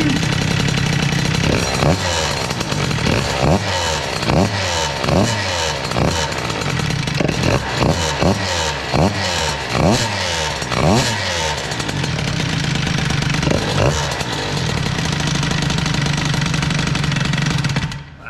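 A tuned Stage6 65 Boost scooter engine, cold and idling steadily, with a series of sharp throttle blips that rev up and drop back, then a return to a buzzing idle that runs until it shuts off.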